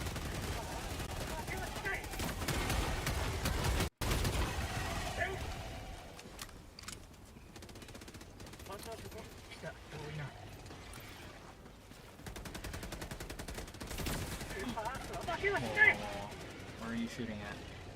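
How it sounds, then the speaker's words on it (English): Gunfire in the Helldivers 2 video game, quiet and scattered among clattering mechanical game noise, with a sharp cut partway through and denser bursts near the end. "Where are you shooting at?"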